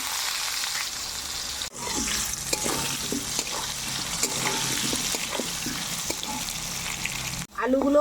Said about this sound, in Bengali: তেলে আলুগুলো ছেড়ে দিচ্ছি